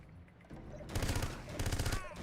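Machine-gun bursts in James Bond: Everything or Nothing, two rapid rattling volleys of automatic fire following quieter ambience, fairly close and sharp.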